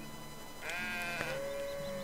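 A sheep in the farming sim Medieval Dynasty gives one drawn-out, wavering bleat, close and clear over a low steady background.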